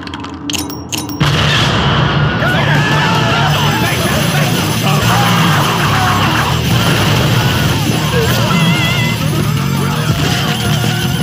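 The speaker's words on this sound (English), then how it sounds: "Do you know how much money all those explosions and tacky graphics just cost me?" Continuous loud explosions and crashing debris roar from the Deadpool video game, a dense, sustained barrage after a short louder opening, with no clear pauses.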